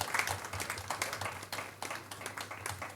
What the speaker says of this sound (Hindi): जोरदार तालियों से हम स्वागत करते हैं।